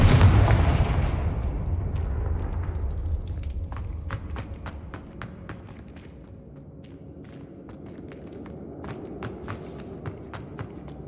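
A Confringo explosive spell cast in Hogwarts Legacy, a video game, erupts in a loud booming blast at the start that decays into a low rumble, followed by faint scattered footsteps and clicks.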